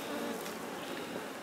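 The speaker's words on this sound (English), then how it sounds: "these are not happy bees" Honey bees buzz loudly and continuously during a transfer from a nucleus box into a ten-frame hive, a dense close hum with no talk.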